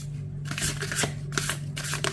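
Tarot cards riffle and slide against each other in a rapid, close shuffle with a few soft snaps as cards are drawn, heard alone without talk.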